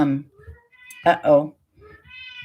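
A pet cat meows a few times, close and clear, with drawn-out tonal cries mixed in among a person's talking.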